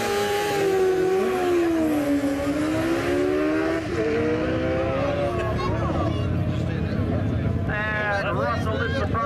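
A 1200 cc drag racing motorbike at a beach drag event accelerates hard and loud, its engine pitch climbing and dropping through gear changes, with a crowd and an announcer talking underneath.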